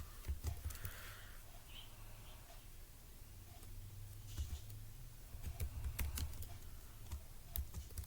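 Keyboard typing enters a name into an online sign-up form, a faint run of quick, uneven key clicks spread across the clip over a low background hum.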